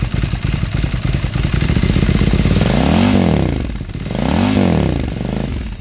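Close, loud Lazareth Ducati custom cafe racer engine idling with a rough, pulsing beat, then revved twice in quick rising-and-falling sweeps before settling back to idle.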